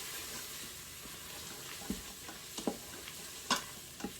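Spices blooming in hot oil in an Instant Pot give a faint, steady sizzle, broken by a few sharp clicks and scrapes of stirring.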